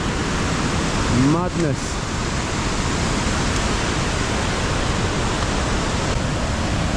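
A waterfall high on the Annapurna trek at over 3,000 metres, shrouded in cloud, roars as a loud, steady wash of rushing water, with someone speaking briefly over it near the start.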